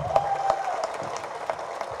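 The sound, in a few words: audience applause at audio launch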